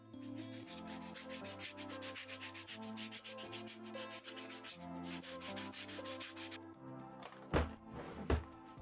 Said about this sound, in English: then gave the whole thing a good sanding.